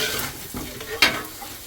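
Ginger frying in a pan for rava upma: a soft, continuous sizzle with stirring scrapes, and one brighter burst of crackle partway through, close and alone.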